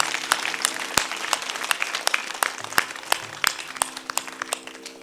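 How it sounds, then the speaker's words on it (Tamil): An audience applauds musicians at a temple festival for a Tamil king's anniversary, with sharp, distinct claps ringing out irregularly over several seconds against a steady background hum. "இவர்கள் அனைவரும் நல்ல பலத்த கைத்தட்டல் கொடுக்கலாம் அவங்களுக்கு."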